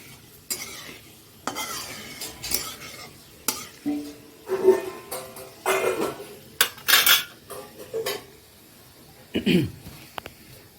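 Whole spices, dried red chillies, bay leaves, fenugreek, cardamom, cinnamon and cloves go into hot oil and sizzle, with repeated spatula stirring and clatter against the pot in short bursts.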